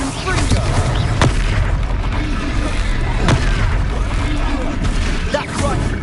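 Confringo blasting spell explosions in a wizard video game, repeated booming blasts over a steady rumbling combat din, with a few sharp cracks standing out and voices speaking throughout.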